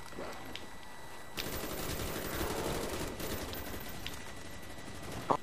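A Pack-a-Punched RPK machine gun fires in sustained rapid bursts in the Kino Der Toten zombies map. The fire is loud and continuous for several seconds and sits over constant game background noise.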